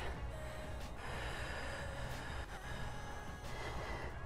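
Quiet, forceful exhales through the nose and mouth during a hands-and-knees lower-ab exercise, several short puffs of breath heard close up with no talking.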